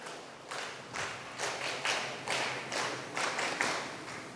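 Children and audience at a school extempore speech contest grand finale clap loudly in rhythmic bursts, a series of roughly regular surges of applause in a hall with no talking over it.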